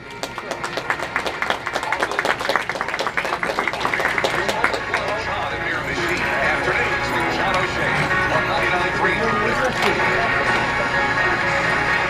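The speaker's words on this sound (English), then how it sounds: "your draft horse, Class 4, Teams Hitched to a Wagon Heavy" Heavy draft horse teams hitched to wagons at a show ring, hooves clip-clopping in a busy rhythm beneath crowd noise and applause, with an announcer's amplified voice carrying over it throughout.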